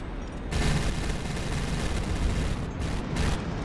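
Ship guns from a HighFleet naval battle keep up continuous heavy fire for nearly four seconds, with dense overlapping booms and rumbling blasts throughout and a short quieter moment at the very start.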